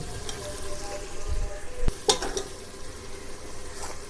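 A tablespoon of cumin seeds roasting in a pan with spice paste for beef yakhni pulao, soft steady sizzle with a few clinks of a spoon against the pan.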